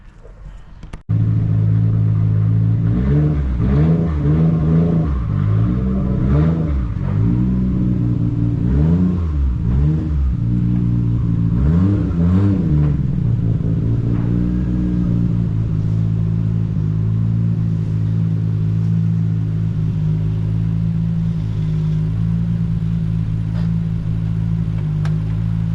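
A Nissan R33 GTR engine starts up and idles loudly nearby, blipped through several rising and falling revs before settling into a steady rumbling idle.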